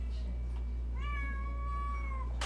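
A cat meows once in a drawn-out, wavering cry, close and clear over a low steady hum, with a brief rustle just after it.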